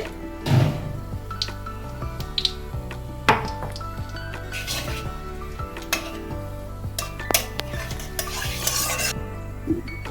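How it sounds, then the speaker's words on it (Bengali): Cinnamon, cardamom and bay leaf frying in hot oil, with a sizzle under repeated metal stirring and clinks of a utensil against the pan, close and fairly busy, with no talking. "তেলে দারচিনি, এলাচ, তেজপাতা ছেড়ে দিলাম।"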